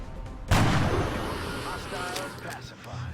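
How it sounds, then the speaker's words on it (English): A single loud, booming sniper rifle shot in the video game XCOM cracks out near the start, followed by a long rumbling decay with game ambience and faint later effects. "we are going to kill him with our sniper."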